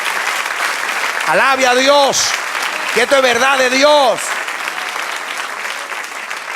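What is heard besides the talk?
applause in a church congregation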